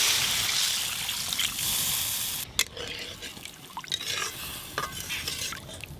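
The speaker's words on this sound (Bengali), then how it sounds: "জল দেবো এবার" Water poured into a pan of fish curry masala cooked with onion and stirred, giving a steady close hiss that drops sharply midway into wet scraping and splashing stirs.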